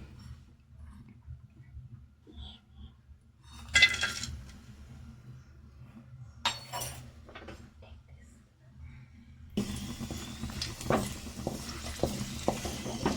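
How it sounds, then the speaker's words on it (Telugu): Dry fruits frying in ghee in a pan, quiet at first with scattered clinks of a spoon, then a sustained crackling sizzle builds in the final seconds, close by, with a voice speaking intermittently. "డ్రై ఫ్రూట్స్ ఫ్రై చేసుకోవాలి ఒక లైట్గా బ్రౌన్ కలర్ వచ్చే వరకు"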